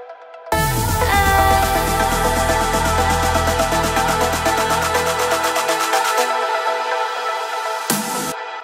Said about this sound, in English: And here comes the little build up.